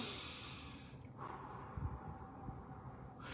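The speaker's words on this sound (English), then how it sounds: "So I inhale through my nose, then I purse my lips and I exhale" A person does pursed-lip breathing, drawing a soft inhale through the nose and then letting out a long, gentle exhale through the lips, close and quiet with no talking.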